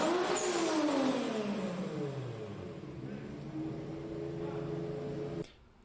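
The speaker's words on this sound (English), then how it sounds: "The most common is an atmospheric blow-off valve," An atmospheric blow-off valve on a turbocharged car releases a loud rush of hissing air, which fades into a steady engine drone that stops abruptly at the end.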